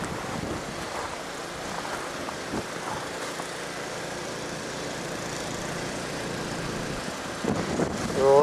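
Steady wind roars during a snow blizzard, a broad continuous rush that swells louder toward the end.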